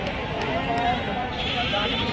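Vijapuri sheep give short, faint bleats at the crowded Lonand goat and sheep market, buried under a constant hubbub of voices and bargaining.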